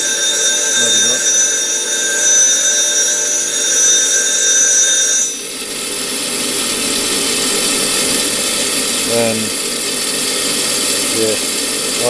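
A tool steel edge grinds against a CBN grinder wheel, giving a steady bright whine with high ringing tones that drops to a softer, rougher grind midway, with occasional voices over the noise.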